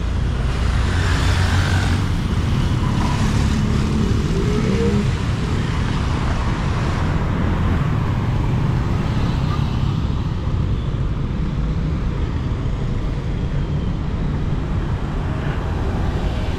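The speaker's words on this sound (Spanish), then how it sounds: "los autos también se dejan venir rápido" Steady stream of cars rushing past on a busy Guatemala City street, a constant roar of traffic close by with no clear breaks and barely any voices.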